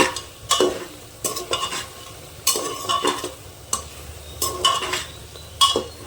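Egg potato curry is stirred and sautéed in a pan, with a spoon scraping and clattering against the metal in repeated strokes over a soft, steady sizzle, close and without talking.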